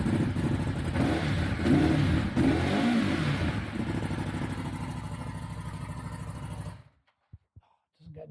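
Ducati Monster 821 motorcycle engine revving loudly and close by, with several throttle blips over a steady idle after a fuel sender replacement, then cutting off abruptly to near silence.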